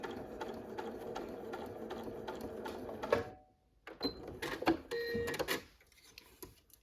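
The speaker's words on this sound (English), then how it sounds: "We're going to be stitching with a straight stitch to join those elements together." A sewing machine running a straight stitch through quilt pieces, a steady rapid mechanical whir that stops midway, then resumes in shorter bursts with small clicks and handling sounds, fairly quiet and close.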